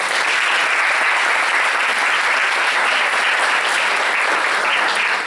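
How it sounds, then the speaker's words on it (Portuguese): An audience applauds a panel guest, Dr. Gonçalo Vecina, at a medical talk, with dense, steady clapping from a crowd at a constant level throughout, without talk. "Uma salva de palmas para o Dr."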